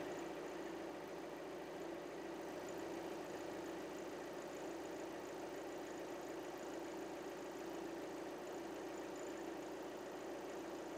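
A VW Audi car engine with a DSG transmission idles in a workshop, a steady, even drone with a faint rhythmic knock that holds unchanged throughout, with no talking.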